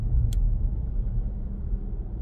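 A car cruising along Highway 40 in heavy holiday traffic, a steady low road rumble and engine drone that stays even from start to finish with no voices.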